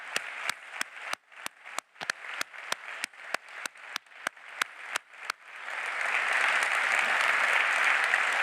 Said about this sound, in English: We have to give them applause.